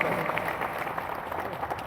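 Applause from a crowd, dense overlapping clapping that stays steady throughout, with faint voices mixed in.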